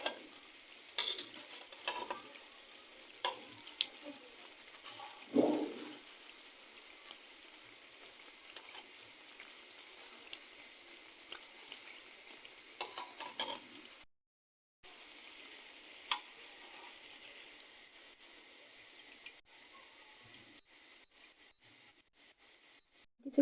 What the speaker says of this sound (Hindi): दोनों तरफ जो है हम अच्छे से इसको क्रिस्पी भी करेंगे, ठीक है, ताकि कलर भी अच्छा सा आ जाए और ये क्रिस्पी भी हो जाए।